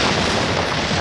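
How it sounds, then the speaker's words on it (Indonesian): An exploding banana in the Annelids video game gives a short, dense burst of loud, crackling blast noise that fills the whole second. "awas itu pisang bisa meledak."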